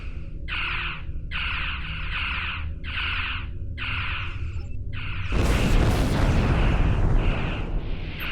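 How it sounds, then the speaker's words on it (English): Spaceship energy weapons and torpedoes fire in the Star Trek Online video game: a run of repeated electronic pulsing bursts, then a loud, dense, sustained blast of weapon fire that dominates to the end, with no talk. "Press the right trigger to fire energy weapons. Press the right bumper to fire torpedoes."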